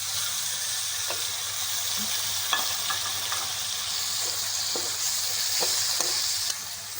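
Tomatoes fry in a pan with fried onions and ginger garlic paste, a steady sizzle running throughout with scattered stirring clicks and scrapes, no talking.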